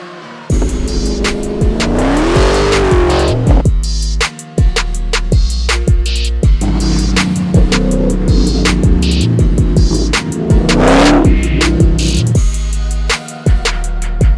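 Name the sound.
car driving and revving after battery replacement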